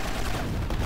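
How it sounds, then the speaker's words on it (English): Dense, continuous gunfire in the Grand Theft Auto: Liberty City Stories video game, a steady rattling barrage of shots with booming low end that fills the brief moment without any talk. "Oh god, I hear gunfire."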